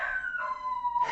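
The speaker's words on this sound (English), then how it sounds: "You might hear my dog barking in the background." A pet dog lets out a single drawn-out howl in the background, a steady wavering tone that slides slightly downward before cutting off.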